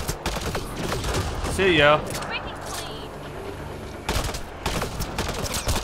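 Shotgun blasts in a modded Mass Effect Andromeda firefight, several sharp bursts in quick clusters at the start and again near the end, mixed with game effects and someone speaking briefly.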